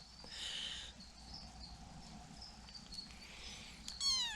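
A litter of young kittens gives faint, high-pitched meows, with a brief burst near the start and a sharper, stronger cry right at the end, set against quiet background chirping.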